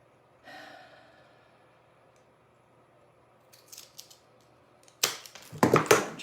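A small wood shim is cut for a craft piece: a faint rustle comes first, then after a quiet pause a cluster of close, sharp cracking snips and crunches at the end.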